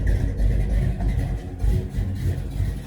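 A 1966 Dodge Charger V8 with a Holley 4150 carburetor, running a touch rich, idles close by with a deep, loping, slightly uneven burble that pulses steadily throughout, with no voices.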